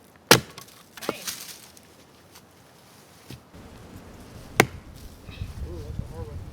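Hard wood being chopped outdoors at a winter campsite: two sharp, loud axe strikes a few seconds apart, with lighter knocks and rustling between them and voices nearby.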